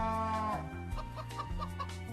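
Clucking chickens in a Minecraft modpack with Roost automated chicken breeding, a steady run of short cackling calls over a constant tonal game drone, with no talking.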